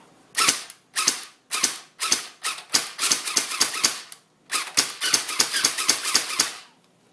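Airsoft G36C rifle (D68 Well) firing a rapid series of sharp close-range shots, first in separate bursts then a denser run of fire before a brief stop and another burst.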